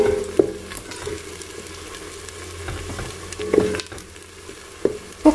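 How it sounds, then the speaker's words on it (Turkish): Browned onions with two spoonfuls of tomato paste fry in a pan, giving a soft steady sizzle broken by a few sharp clicks and knocks of a stirring utensil, with no talk. "Şimdi şöyle kavrulan soğanlarıma 2 yemek kaşığı salçamı ilave ediyorum."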